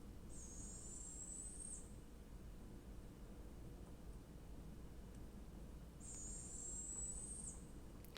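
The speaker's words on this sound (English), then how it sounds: "So this is a juvenile owl of some sort." Two faint, raspy high calls from a juvenile owl, one near the start and one around six seconds in, each lasting over a second, against steady background hiss.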